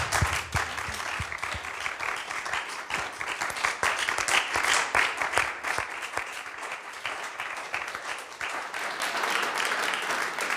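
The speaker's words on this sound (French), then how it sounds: "On les applaudit très fort, s'il vous plaît." Sustained audience applause after an intimate concert, many hands clapping in a dense, continuous patter that holds steady for about ten seconds, heard alone without talk.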